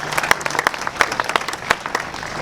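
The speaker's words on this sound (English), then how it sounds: "That deserves another round of applause." Crowd at a Baltimore event with the governor applauding, with loud, close individual claps standing out within a brief, lively round of applause.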